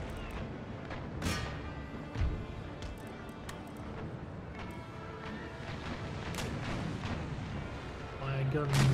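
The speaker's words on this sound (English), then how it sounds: "Fire your starboard battery." Ship cannons firing a broadside in the naval battle game Empire Total War, a series of deep booming shots scattered across the battle, fairly distant and low in level, under a continuous rumble of game ambience and a voice speaking.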